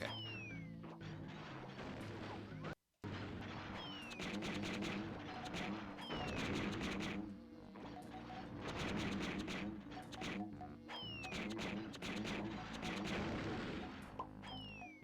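Shooting in the Donkey Kong 64 video game brings rapid, repeated gunfire bursts and sharp whacks over continuous game music and effects, loud and dense throughout, with a brief silent gap early on.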